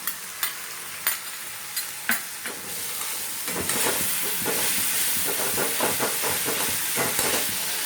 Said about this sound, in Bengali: মশলাটাকে একটু ভালো করে ভাজতে হবে।